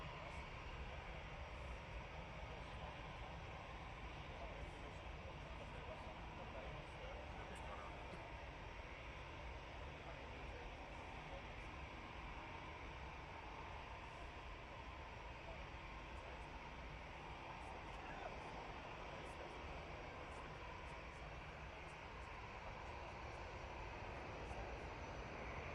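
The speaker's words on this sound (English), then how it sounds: "prop time with this ATR 72 coming in from Belfast." An ATR 72 turboprop airliner arriving from Belfast on approach to land at Manchester Airport, a steady, fairly faint broadband engine drone that holds evenly throughout with no talking.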